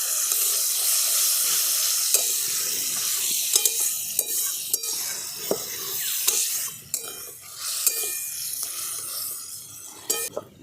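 Spice paste being sautéed with ridge gourd and potatoes in a pan, a steady close sizzle with repeated scraping stirs and occasional sharp utensil clicks against the pot throughout.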